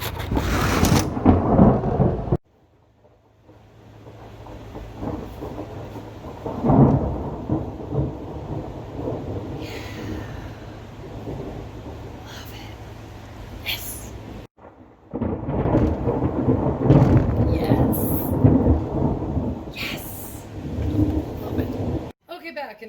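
Thunderstorm with rain: a steady wash of rainfall with low rumbles of thunder rolling through, dropping out briefly twice before returning at similar strength, loud and close with no talk.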